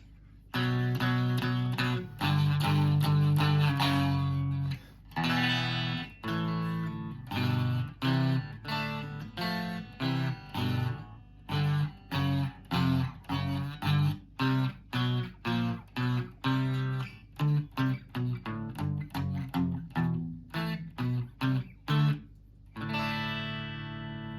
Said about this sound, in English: if you add some distortion to that, you'll find that you can play a lot of heavy metal and hard rock just by playing these 2 notes